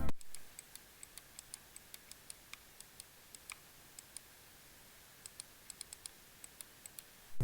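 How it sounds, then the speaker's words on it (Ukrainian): Sparse, crisp little clicks of a HATOR gaming mouse's side buttons scattered at uneven intervals, some in quick pairs, over a quiet hiss. "Бокові кнопки теж приємно клікують"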